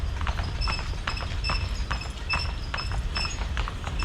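A horse's hooves clip-clop steadily on a hard paved road in a quick, even rhythm, fairly close and clear, with no voices.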